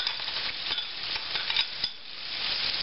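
Onion is added to hot oil left in a frying pan after fish has been cooked, sizzling steadily while it is stirred, with occasional scrapes and clicks from the utensil close by.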